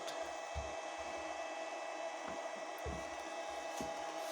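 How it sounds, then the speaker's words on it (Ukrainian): An electric drill runs on a 12V-220V pure sine wave power inverter (TATALIKEN 1600 W), giving a steady motor whine with a constant hum throughout and faint low thumps here and there. "Дріль працює."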